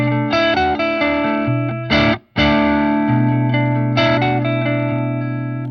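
Ibanez Prestige AZ2200 electric guitar played through its single coil pickup with effects and distortion, sustained chords and riffs broken by a short gap, loud and close with no speech.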